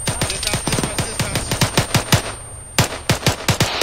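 Rapid automatic gunfire in Arma 3 aimed at a tank, close and loud bursts of evenly spaced shots, a brief pause, then another quick burst.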